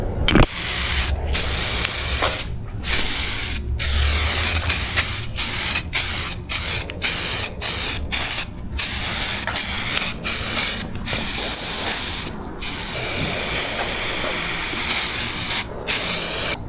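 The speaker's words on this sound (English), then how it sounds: "Now we're going to spray the Bulldog adhesion promoter over the plastic bumper" An aerosol can sprays Bulldog adhesion promoter onto a plastic car bumper in a long series of loud, close hissing bursts, each cut off by a brief pause, at an uneven rhythm across the whole stretch and with no talking.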